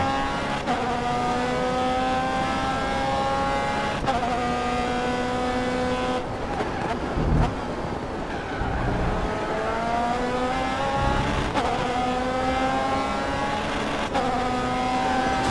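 Open-wheel race cars in the Grid Autosport racing game howl at high revs, with engine pitch climbing and dropping through gear changes and brief tire scrubbing as a car slides close behind, all loud and continuous.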